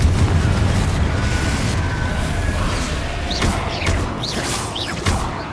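Fiery Confringo spell blast in Hogwarts Legacy, a dense booming rumble with crackling bursts, a few sharp whooshing streaks flaring near the end over a continuous loud battle wash.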